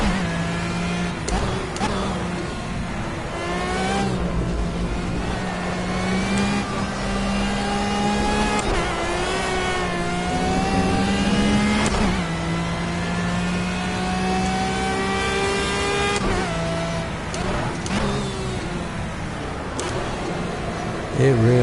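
Racing car engine in the Project Cars driving game, revving and rising steadily in pitch through repeated throttle pulls and gear shifts, loud and continuous, with someone talking over it throughout.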